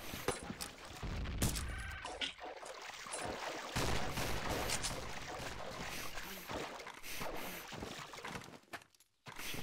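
Rapid shotgun blasts pop among dense, noisy video game action, with a few sharper booms standing out over a constant busy background.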